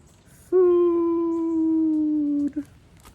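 A single long, steady howl rises suddenly and holds for about two seconds before breaking off, loud and close in an otherwise quiet setting.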